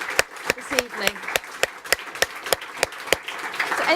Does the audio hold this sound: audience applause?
yes